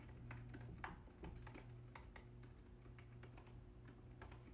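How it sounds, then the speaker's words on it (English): Typing on a computer keyboard, a quiet, close, irregular patter of key clicks in short bursts over a faint steady hum. "Yeah, I'm typing"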